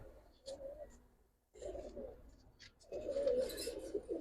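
Giribaz pigeons coo softly and close by in three separate low, throaty phrases with brief quiet gaps between them.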